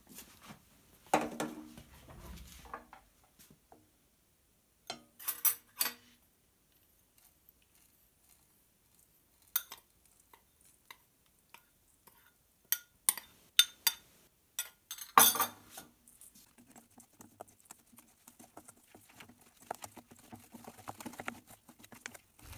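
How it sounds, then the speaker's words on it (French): A spoon stirs melted chocolate into praline in a bowl for homemade hazelnut spread, giving sparse light clinks and scrapes in irregular bursts with long quiet stretches between them. "Lorsque le chocolat a fondu, vous le mélangez avec le praliné."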